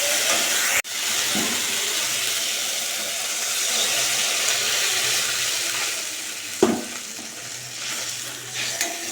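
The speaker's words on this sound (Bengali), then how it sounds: "একটু বেশি করে জল দিলাম মাছটা আবার সেদ্ধ হবে" Water is poured onto fish curry masala frying in a pan, setting off a loud, steady, close hiss and sizzle, broken by a sharp clack early on and a couple of utensil knocks later.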